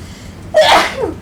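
A single sharp sneeze bursts out close by, a brief intake followed by a loud explosive release, against a quiet room.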